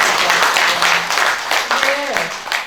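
Audience applause at a Buddhist dharma talk, a steady wash of clapping filling the room for a few seconds, with a brief tonal voice-like sound rising near the end.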